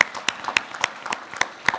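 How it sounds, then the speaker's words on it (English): Audience applause at a conclave gathering, a thin scatter of claps at an irregular pace, moderately close, with no talk over it. "So let us please give a round of applause, louder"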